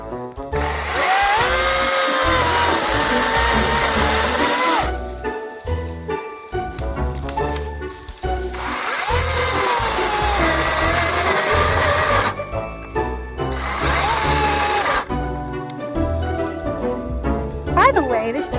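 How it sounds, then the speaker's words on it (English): A weak, poorly running chainsaw cuts through brush while a fence line is cleared for animal shelters, its motor buzzing loudly in long bursts with short drops between cuts. "So I brought up the chainsaw and my trimmers"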